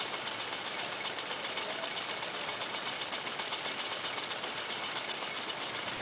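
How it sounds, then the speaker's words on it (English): A rotary gill drawing machine processes jute, its moving gill pins producing a continuous, dense mechanical whir and rattle that stays steady and fairly loud throughout, with no voices. "We are observing the basic mechanism for the movement of the gill pins in a rotary gill drawing machine."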